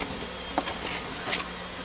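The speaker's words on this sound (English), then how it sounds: "There's actually bees all over the camera." Honeybees swarm around an opened, disturbed hive during a hive split, giving a faint, thin buzz with a couple of brief nearer passes close to the microphone.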